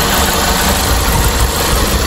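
An engine idles at very low RPM, a steady, close, continuous rumble with a slight vibration and no voices.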